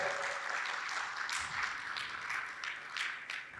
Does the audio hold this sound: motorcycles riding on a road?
no